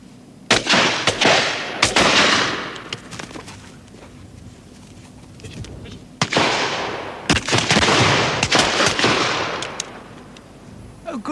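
Several sharp gunshots ring out at a shooting outing, the cracks coming singly and in quick pairs with a broad, hissing decay. A long, quieter gap falls between two clusters of shots.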